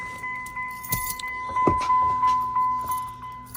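Keys jangle inside the cab of a stolen, vandalized second-generation Cummins pickup with a torn steering wheel and damaged ignition: a few close, bright metallic jingles over a steady electronic hum, with no talking.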